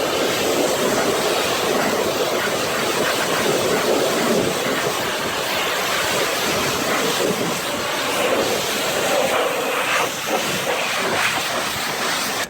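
A pressure washer rinses a truck during a foam wash, giving a loud, steady broadband hiss of high-pressure spray that runs without pause for the whole stretch, with no talking.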